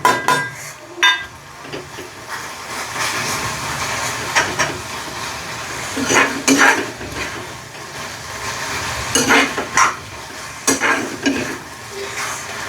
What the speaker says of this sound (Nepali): यसलाई चाहिँ बेसरी भुट्नुपर्छ